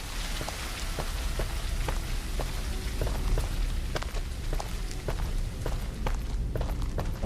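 Steady rainfall in a video game, a dense wash of patter with sharp droplet ticks scattered throughout, even and continuous.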